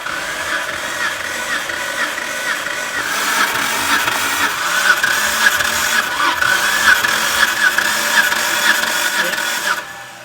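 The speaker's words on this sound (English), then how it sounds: "We're just going to do a compression test on all the cylinders to find out exactly what's going on." A Nissan Skyline R33 GT-R engine cranks during a compression test, giving a loud, close, steady whirring drone that holds for about ten seconds before cutting off abruptly.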